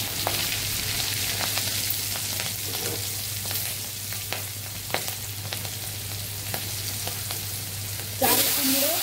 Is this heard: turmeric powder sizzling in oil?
yes